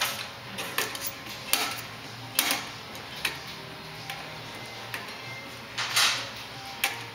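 A hand pump is stroked several times to recirculate fluid back into its bottle, giving uneven mechanical clicks and clacks with soft whooshing strokes between them, close by.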